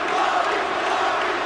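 A basketball arena crowd at a Big 12 game, Kansas at Texas Tech, roars in a dense, steady wash of cheering and shouting with no clear breaks.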